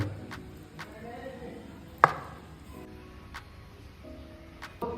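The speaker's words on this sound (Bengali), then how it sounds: "এবার এখানে আমি তিনটে ডিমকে কেটে নেব" A knife cuts through three eggs on a board in a home kitchen, giving a few sharp, quiet taps and one louder chop amid low background noise, with someone talking softly.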